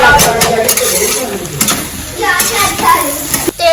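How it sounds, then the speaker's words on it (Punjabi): Noodles being stirred and mixed in a frying pan, a steady scraping and clattering of utensil on metal over a soft sizzle, close and fairly loud, with voices talking over it. "ਚੰਗੀ ਤਰ੍ਹਾਂ ਮਿਕਸ ਕਰ ਦਾਂਗੇ"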